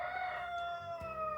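A rooster crows at close range near an orchid greenhouse with snow sliding off the roof, its long sustained call held steady across the whole moment with no talk over it.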